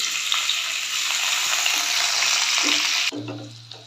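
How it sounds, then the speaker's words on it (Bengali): Potato pieces fry in hot oil in a kadai with a loud, dense, continuous sizzle that stays even before abruptly dropping to a quieter crackle with a low hum near the end; nobody speaks. "তেলটা আমার গরম অলরেডি হয়ে গেছে এবার আলুগুলোকে দিয়ে আলুগুলো ভেজে নিচ্ছি"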